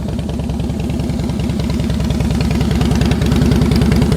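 A motorcycle engine idles steadily during slow-speed riding practice, a continuous low throbbing rumble, loud and close throughout with no talking.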